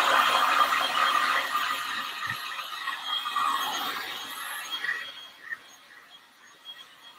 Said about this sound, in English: I'm gonna apologize for the noise that the heat gun makes.